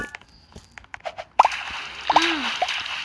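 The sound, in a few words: water drop sound in Roblox video game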